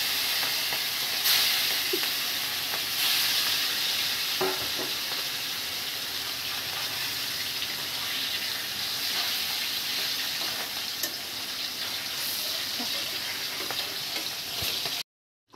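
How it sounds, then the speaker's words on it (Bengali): Hilsa fish fries lightly in oil with a steady, close sizzle and hiss, broken by a few soft clinks and stirring sounds before cutting off abruptly at the end. "এখন আমি হালকা করে মাছটা ভেজে নেব।"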